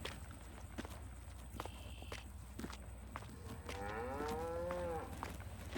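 Cattle in the Farming Simulator 22 video game low out with one long, wavering moo that swells in the second half, over steady farm ambience with light footstep-like clicks and no talking.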